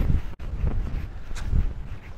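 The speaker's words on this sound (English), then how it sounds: "That wind is terrible. I can't putt with that wind." Gusty wind buffets the microphone on an open golf green, a steady low rumble swelling and easing over a couple of seconds with a brief dropout near the start.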